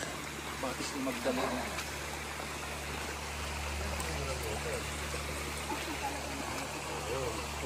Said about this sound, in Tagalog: So dito na tayo sa Batis